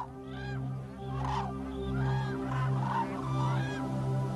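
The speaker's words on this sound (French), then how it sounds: "Dawa, du petit village de Banjarling, a ramassé cette grue au cou noir blessée en faisant paître son bétail" A black-necked crane on the Tibetan grassland calls again and again in nasal, honking notes at a steady rhythm over a constant low background hum.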